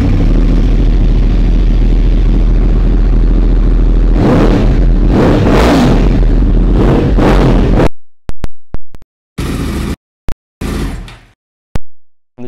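A 2012 Yamaha R1 cross-plane engine idles with a deep rumble, then revs hard several times in sharp bursts, ending in short clipped blips of throttle.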